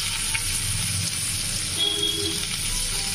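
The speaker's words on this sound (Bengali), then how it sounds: "পেঁয়াজটা দিয়ে এটাকে আমি একটু নাড়িয়ে নিচ্ছি।" Sliced onion sizzling steadily in hot oil as it is stirred in a pan, a close, continuous frying hiss with faint scraping, and no voices.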